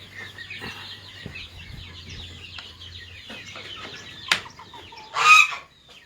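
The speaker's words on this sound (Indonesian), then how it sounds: "Ada 15 ekor bebek" Fifteen ducks kept in a pen give off a scatter of quacks and clucking calls over a low hum, ending in a louder burst of calls close by.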